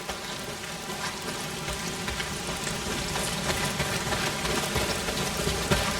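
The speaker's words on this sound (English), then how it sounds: "Well, not if it's pissing down rain." Heavy rain in the video game Days Gone, a dense, constant hiss of downpour pattering on surfaces, loud and unbroken throughout with no voices.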